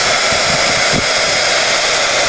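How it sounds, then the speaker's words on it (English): A heat gun blowing hot air to melt embossing powder on a canvas, a loud, steady whooshing drone that holds without a break from start to finish. "just take the heat gun and just heat it up so it melts"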